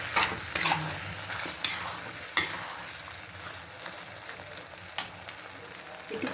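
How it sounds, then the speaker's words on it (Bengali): A sauce thickened with cornflour sizzles and bubbles in a pan while being stirred continuously, with a steady frying hiss broken by several sharp scraping clicks of the spoon. "কর্নফ্লাওয়ারটা দেওয়ার সঙ্গে সঙ্গে নাড়তে হবে"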